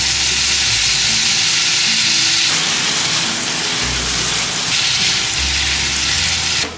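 Salmon sizzles in a hot pan with soy sauce and white miso paste, a steady loud crackling fry running throughout with slight surges, no voices.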